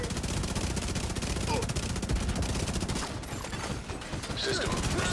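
Rapid automatic gunfire in The Division, a dense continuous fusillade of overlapping shots that fills the clip, with a short lull near the end before the firing picks back up.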